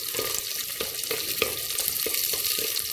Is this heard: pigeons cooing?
no